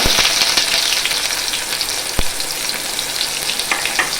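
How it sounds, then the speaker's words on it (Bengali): Whole cumin, a dried red chilli and onion frying in hot oil: a loud, dense crackling sizzle throughout, with one sharp tap or clink near the middle. "তেল গরম হয়ে গেছে, আমি এর মধ্যে দিয়ে দেব কিছুটা গোটা জিরে, একটা শুকনো লঙ্কা, দিয়ে দেব কিছুটা পেঁয়াজ।"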